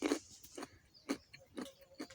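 A crunchy carrot being bitten and chewed close up, with four or five sharp crisp crunches spaced roughly half a second apart over quiet background.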